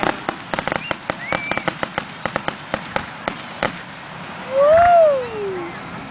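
A fireworks display: a rapid string of sharp crackling bangs and pops, then a rising whistle and a booming burst near the end, fairly loud and close, with no talk over it.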